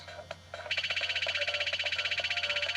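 Special-item-centered cue from the audio game Troopanum 2: a short soft blip, then a fast, steady pulsing electronic warble that repeats evenly at moderate volume until the end.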